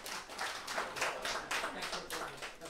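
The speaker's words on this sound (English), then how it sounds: "so let's give a round of applause for them." A small audience at an evening event claps for a few seconds. The claps are quiet, soft and scattered, coming in uneven bursts.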